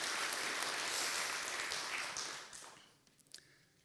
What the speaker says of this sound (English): please give him some applause because he's been helping a lot